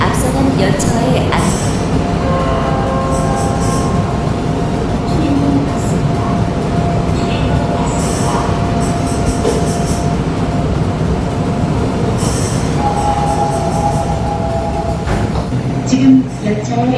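Interior of a new Seoul subway Line 7 train running, a steady rumbling roar with faint squeals and tones, while a voice speaks over the noise.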